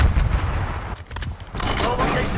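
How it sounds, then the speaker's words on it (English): Rapid gunfire from an enemy marksman in the Black Ops 6 video game, with loud, dense cracks and booms running through the whole stretch and a short dip midway. "Enemy marksman shooting."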